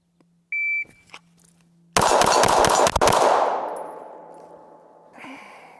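A Glock 19 Gen 5 pistol fires a quick burst of sharp, loud gunshots that ring out and decay into a long tail, preceded and followed by short electronic beeps from a shot timer.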